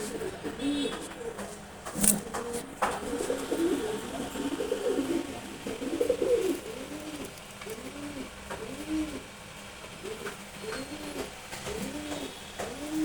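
High-flying racer pigeons coo in repeated rolling, throaty phrases at a steady rhythm, close by, with occasional sharper clicks and bumps.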